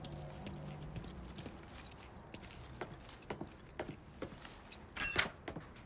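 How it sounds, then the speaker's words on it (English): A set of truck keys is picked up in the Mafia 3 video game, giving a light metallic jingle followed by scattered clicks and rustles that build toward a sharper rattle near the end, with no talking. "Lincoln, pick up the keys."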